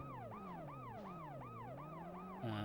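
Wailing ambulance siren in World's Scariest Police Chases, a loud, steady rising-and-falling sweep repeating about every half second, with engine hum underneath.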